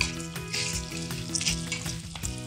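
Whole spices (cinnamon, star anise, cardamom, mace, nagkesar, black pepper and cloves) sizzle in hot oil in a pan, giving a steady close crackle with small pops and stirring scrapes throughout.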